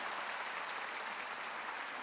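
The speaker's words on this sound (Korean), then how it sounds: "박수 좀 쳐줘." A congregation at a Korean church's Sunday afternoon service applauds, producing a soft, distant, even patter of many hands clapping that stays steady and faint throughout.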